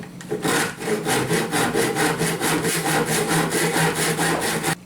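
A handsaw cuts through a piece of 1x wood board on a workbench, with steady rhythmic back-and-forth strokes, loud and close, with no talking.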